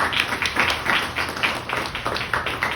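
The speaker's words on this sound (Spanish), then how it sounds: "Dale un aplauso a Cristo" A church congregation claps in a steady rhythm, a continuous patter of moderately distant applause with no talking over it.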